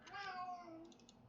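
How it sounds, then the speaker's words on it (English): A house cat gives one drawn-out meow that slides downward in pitch, heard close and fairly loud, with a few faint clicks from a computer keyboard near the end. "That is my cat, Murdoch."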